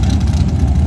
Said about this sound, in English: there's just something so right about a Hemi-powered front engine dragster